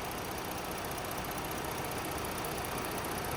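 A 2018 Ford Explorer Limited's 3.5-liter six-cylinder engine idling smoothly, a steady, even hum heard up close in the engine bay with no knocks or irregular noises.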